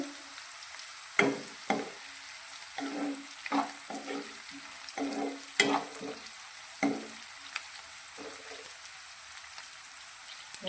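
Radish and green chilli pieces sizzle and fry in hot oil under a steady hiss, with repeated scraping stirs of a spoon in the pan at irregular intervals, close and moderately loud.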